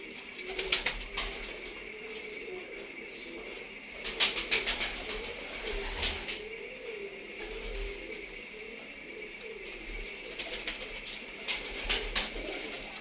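Teddy pigeons in a loft in Lahore coo softly and steadily while bursts of wing flapping come and go as the flock takes off, close by with no talk.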